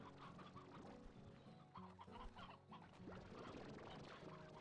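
Chickens in the video game Slime Rancher 2 cluck in a busy overlapping chorus, steady and fairly close, with no talking over them.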